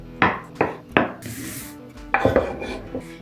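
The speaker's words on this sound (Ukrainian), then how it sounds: "залишилось нарізати яйця також соломкою" A knife cuts boiled eggs into thin strips on a board, landing several distinct, close chops in uneven bursts, with a brief scraping rub between them.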